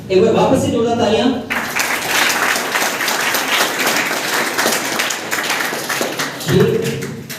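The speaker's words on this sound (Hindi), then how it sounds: "एक बार वापस से जोरदार तालियां।" Audience applause and clapping fill a ceremony honouring new Indian Army recruits at a coaching centre, starting after a brief voice and running steady and loud, with talk returning at the end.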